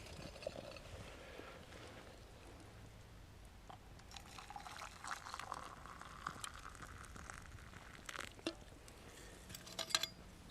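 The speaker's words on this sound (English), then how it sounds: "I'm going to go ahead and pour some of that into my Space Saver cup." Liquid poured into a Space Saver cup beside a Swedish fire torch camp stove: a quiet, steady trickle lasting several seconds, with small drips and clinks near the end, heard close up with no talk.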